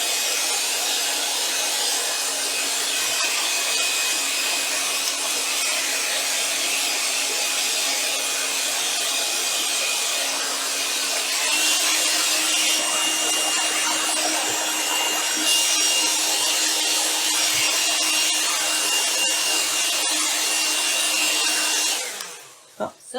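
A hair dryer blows steadily on a wet Tyvek paper surface, a loud continuous hiss with an even hum that shifts pitch slightly partway through and then cuts off abruptly at the end.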